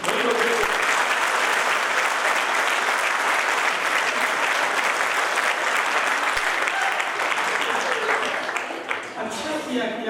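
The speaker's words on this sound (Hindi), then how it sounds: "आप एक बार मेरे सम्मान में जोरदार ताली बजाओ।" An audience at a kavi sammelan poetry gathering gives loud, dense applause lasting about nine seconds, then tapers off as a voice starts speaking near the end.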